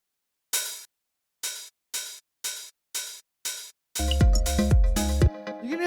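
Roland 909 open hi-hat sample struck six times in an even rhythm, crisp hissy bursts with short decay, followed by a brief snippet of a fuller drum and bass groove.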